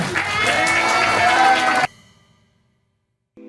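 Audience applause with some cheering at a performing artists' association spring gathering, a loud crowd roar that cuts off abruptly partway through and leaves near silence.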